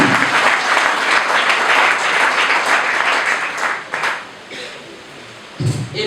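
Guests at a wedding burst into sustained applause, dense and loud clapping that carries steadily for several seconds before tapering, with a short fresh flurry near the end.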